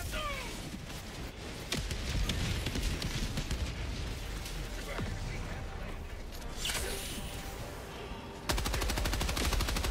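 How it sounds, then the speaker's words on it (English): A Gatling gun firing in the video game Helldivers 2: dense, continuous rapid gunfire mixed with explosions and whooshes, turning sharper and louder in the final second. "Let me see if I can throw out the Gatling now."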